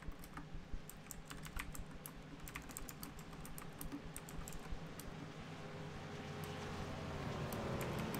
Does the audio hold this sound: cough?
no